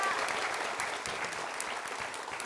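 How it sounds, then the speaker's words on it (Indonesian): A studio audience at an Indonesian comedy show claps in a continuous, fairly faint burst of applause lasting a couple of seconds. "Tepuk tangan dong buat mereka bertiga."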